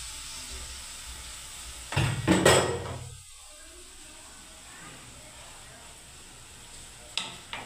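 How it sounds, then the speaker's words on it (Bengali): Tomato paste and spice masala frying and being stirred in a pan, giving a burst of loud sizzling with scraping stir strokes for about a second, then a low steady hiss, with another short sizzle near the end. "আমি টমেটো পেস্টটাও দিয়ে দিচ্ছি। নিয়ে আমি কষতে থাকবো বন্ধুরা এই মশলাটা"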